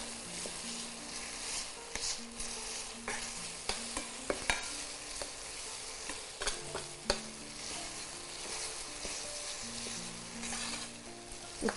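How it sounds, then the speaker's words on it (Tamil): Tomatoes being mashed and stirred as they fry in a pan for meal maker gravy, a steady close sizzle broken by repeated scraping and tapping of a spoon against the pan, no talking. "தக்காளியை நல்லா மேஷ் பண்ணிடுவோம்."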